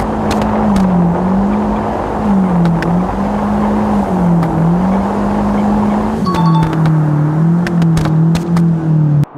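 A car engine drones loud and close as it overtakes a truck, its pitch holding steady with small dips, then shifting upward partway through, with sharp clicks and a brief squeal near the end.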